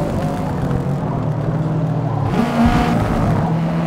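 Subaru S209 engine in the Forza Motorsport racing game, steady loud drone that shifts pitch around midway as it revs up on a downshift into second gear, continuous and close.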